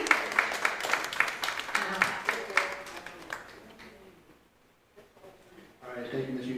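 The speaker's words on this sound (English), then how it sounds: "Can we give a round of applause for this amazing team?" A crowd applauds at an ADA 35th anniversary proclamation ceremony with dense, steady clapping that gradually thins and dies out, followed by a brief lull before murmuring resumes.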